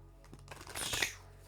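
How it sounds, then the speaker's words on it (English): Cards being shuffled up close, a quick burst of crisp riffling clicks that builds and then stops. "Let me shuffle these a little bit more."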